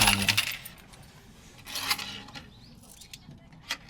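Coins clatter as they drop while paying 500 yen at a shop near Mt. Fuji, a quick jingling burst at the start and another in the middle, with a few lighter clinks after, close by.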